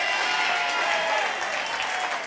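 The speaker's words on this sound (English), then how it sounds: "let's give Jesus a 10 times louder clap than that" Loud, sustained clapping rises from a church congregation during a midweek service, a thick continuous roar of many hands that stays strong and eases slightly toward the end.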